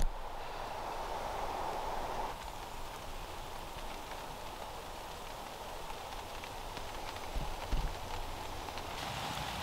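Rain beginning to fall in a UK pine forest at a wild bushcraft camp, a steady soft patter of drops on surfaces throughout, with a few louder close knocks near the end and no talk.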